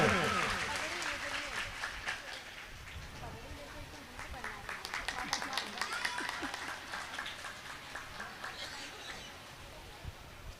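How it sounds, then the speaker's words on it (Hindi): Audience applause fills a religious gathering during a Ram Katha yajna, steady crowd clapping sustained throughout with voices mixed underneath. "जोरदार ताली बजाओ इस यज्ञ में"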